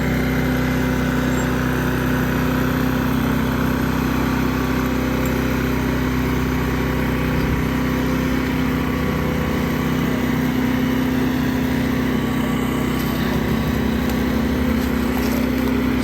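A Firman 4000 watt dual fuel generator drones steadily for the whole stretch, heard from about 18 feet away, a constant mid-pitched engine hum with no change in speed.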